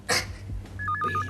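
A brief warbling electronic telephone ring, two alternating tones trilling quickly, follows a soft thump and lasts only a moment.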